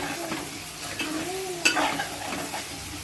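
Chicken curry with green chillies, dried red chillies and curry leaves sizzling in a pan as it is stirred, a close steady frying hiss with a brief scrape of the spoon, no talking.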